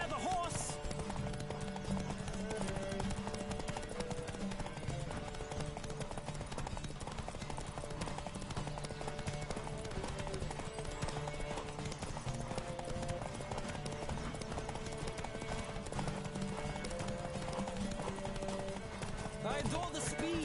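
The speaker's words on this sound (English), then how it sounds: "Don't spare the horse!" Galloping horse hooves pound in a steady rapid clip-clop during a race in The Witcher 3, running continuously under game music and shouted voices.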